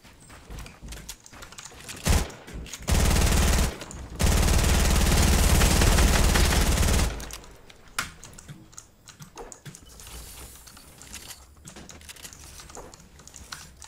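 Submachine gun fire in Fortnite Battle Royale, two loud sustained bursts of rapid automatic shots close by, the second lasting about three seconds, with quieter game sounds around them.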